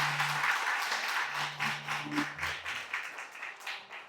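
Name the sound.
church congregation applauding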